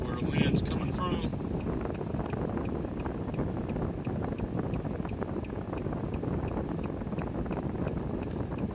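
Steady, rough wind roar during a storm in southeast Alabama, buffeting the microphone throughout, with someone talking briefly at the start.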